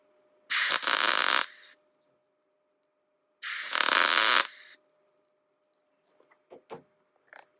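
Welding during a van body repair: two harsh, crackling bursts of arc, each lasting about a second, separated by a pause, followed by a few faint clicks and taps.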